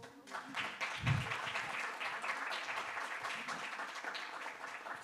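Audience applause at an illustrated-books panel event, a sustained dense crowd clapping lasting several seconds, fairly steady and close with a brief low thump near the start.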